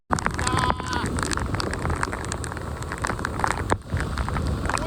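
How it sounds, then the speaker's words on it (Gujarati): Heavy rain at Koshmal Waterfall in Gujarat pours down in a dense, steady hiss, with scattered drops pattering sharply on nearby surfaces. "વરસાદ છે ભાઈ ફૂલ વરસાદ"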